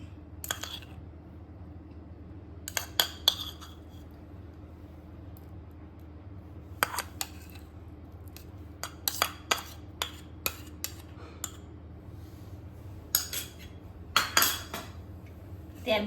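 A spoon clinks against two glasses as pieces of ice apple are dropped in for juice, giving scattered sharp clinks and taps in small clusters over a quiet, steady background hum.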